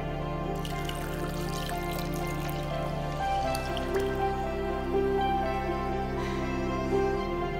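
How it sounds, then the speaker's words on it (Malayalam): Tamarind water poured into a cooking pan, a steady liquid trickle and drip running close by with no talk over it. "നമുക്ക് ഈ പുളിവെള്ളം കൂടെ ഇതിലേക്ക് ആഡ് ചെയ്യാം."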